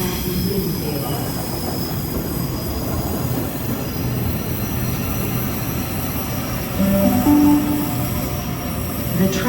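A Sydney Trains train pulls into a platform with a continuous rolling rumble, while its wheels squeal in thin, high tones that rise briefly louder near the end.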